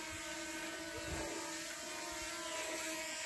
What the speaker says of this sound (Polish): Słyszycie drona?